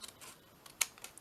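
Scissors cut across a paper bag in a few quick, faint snips, one crisper and louder than the rest, in a quiet room.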